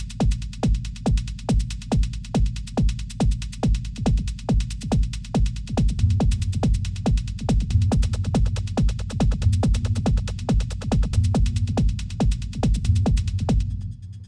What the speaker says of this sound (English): Let's have a listen to the other closed head and kick drum.